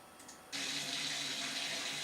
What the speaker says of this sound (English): I'm also using bath water running.